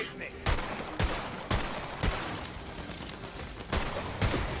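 A revolver fired again and again in the fantasy shooter Tiny Tina's Wonderlands: about eight sharp, loud shots in an uneven but steady rhythm, each cracking out over a constant bed of game noise.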